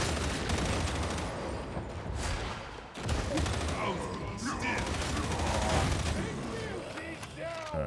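Sustained automatic gunfire and explosions from the Warhammer 40K Darktide video game, dense and continuous over the whole stretch, with a voice talking over the battle.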